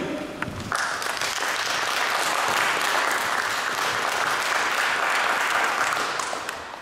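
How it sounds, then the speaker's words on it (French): An audience at a public meeting in the Paris 12th district town hall breaks into sustained, dense applause close by. The clapping swells quickly, holds for several seconds, then fades. "On peut l'applaudir."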